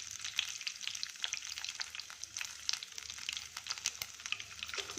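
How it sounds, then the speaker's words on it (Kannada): Cumin, fenugreek, curry leaves and a dry red chilli splutter in hot oil for a wheat huggi tempering, a dense, steady crackle with sharp pops scattered throughout, close and alone. "ಜೀರಿಗೆ, ಮೆಂತ್ಯ, ಕರಿಬೇವು, 1 ಒಣಮೆಣಸಿನ್ಕಾಯಿ ಹಾಕ್ತಾಯಿದ್ದೀನಿ. ಇದೆಲ್ಲ ಸ್ವಲ್ಪ ಚಟಪಟ ಅಂತ ಸಿಡಿಲಿ."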